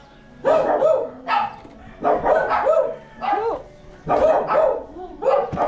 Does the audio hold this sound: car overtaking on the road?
no